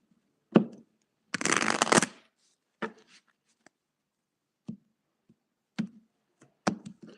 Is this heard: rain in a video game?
no